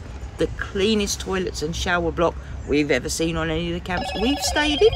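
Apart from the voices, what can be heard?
phone ringing in the background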